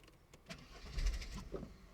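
A car engine being started, a short crank followed by a muted catch and low idle, close by; the car is a Triumph Stag or Mercedes SL.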